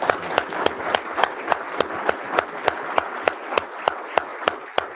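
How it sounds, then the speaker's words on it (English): Small audience at a morning coffee-series talk with the Undersecretary of the Army applauding; steady, regular claps stand out sharply over a soft, even patter of other hands, moderately quiet throughout. "How about joining me in a round of applause for the Undersecretary?"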